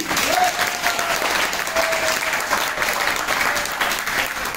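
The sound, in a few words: applause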